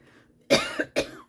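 Two harsh throat-clearing coughs close up, one right after the other, with silence before them.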